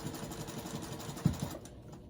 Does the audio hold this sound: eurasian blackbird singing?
no